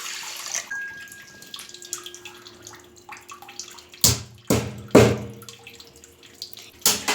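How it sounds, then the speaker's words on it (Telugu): Water is poured from a vessel onto sugar for gulab jamun syrup, several sharp close splashing bursts with short pauses between them and faint kitchen hum underneath. "వాటర్ యాడ్ చేసుకోవాలి."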